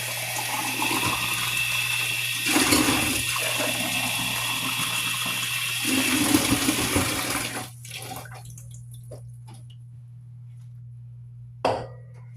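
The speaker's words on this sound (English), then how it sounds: "Rinse out your shaker." Water runs steadily from a faucet as a cocktail shaker is rinsed out, a continuous splashing flow that stops partway through, followed by a few small clinks and a short knock in near silence.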